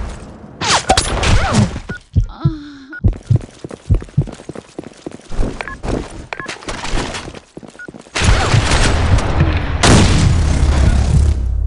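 Loud, close Counter-Strike gunfire and a grenade blast: rapid bursts of shots and thuds with brief pauses, then a sustained roaring explosion rumble toward the end.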